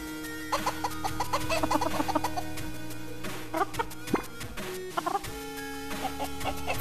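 Chicken clucking in the VR video game Pixel Ripped 1978, a run of quick, close clucks over a steady game soundtrack, with electronic blips and a brief sharp effect partway through.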